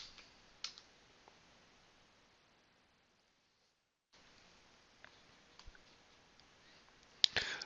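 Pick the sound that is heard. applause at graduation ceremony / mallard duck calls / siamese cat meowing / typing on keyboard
typing on keyboard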